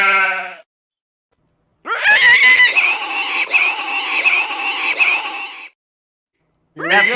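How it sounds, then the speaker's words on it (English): A pig squeals loudly and up close in one long, strained, wavering cry lasting several seconds, bracketed by brief cut-off bits of other animal or voice sounds, with no talking over it. "Nothing like a pig squeal"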